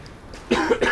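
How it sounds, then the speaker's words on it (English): A short cough, close and fairly loud, after a brief quiet moment. "I do apologise for all the coughing."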